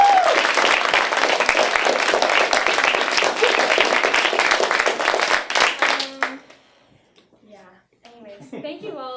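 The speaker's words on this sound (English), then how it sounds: "let's also have a quick round of applause for Sam" An audience claps for the tech person after a live show, a dense burst of applause for about six seconds that stops abruptly, followed by a few quiet voices speaking.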